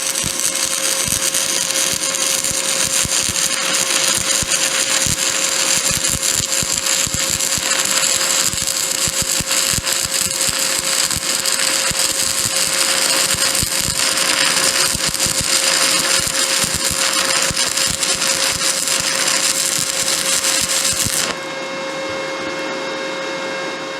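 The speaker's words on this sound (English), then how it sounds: "that burned an 1/8 inch rod on 120 volt power" Sefaspe ARC 200 Pro stick welder burning an 1/8 inch rod on 120 volt power through a 16 gauge extension cord: a steady, loud crackling buzz with a hum that holds for about twenty seconds, then drops away abruptly.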